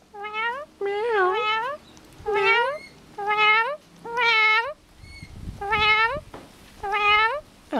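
A little corella, a white cockatoo, gives a string of about seven drawn-out, cat-like meows, each a loud rising-falling wail with harmonics. The calls come one after another at near range, with brief gaps and some scuffling between them.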